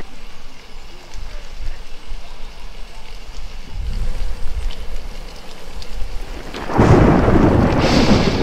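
Thunder rumbles low and loud over steady rain as a sound effect accompanying a dance with white umbrellas, the rain swelling into a heavier, brighter downpour near the end.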